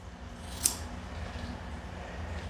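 Scissors trimming a matted dog's hair around the ears, a single quiet, sharp snip over a low background hum.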